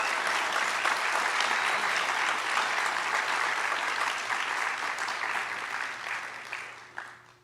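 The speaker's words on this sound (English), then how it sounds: "let's give our senior award winners a great big round of applause." Senior awards ceremony at Cal Maritime: a large indoor audience applauds steadily for several seconds, the clapping dense and even before tapering off at the end.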